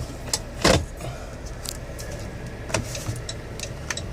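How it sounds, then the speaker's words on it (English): A 2019 Dodge Caravan SE wheelchair mobility van driving, a low steady engine and road rumble heard from the cabin, with a few short clicks and rattles scattered across it and no talk. "let you hear the transmission shift, the engine run, any cabin noises that might stick out"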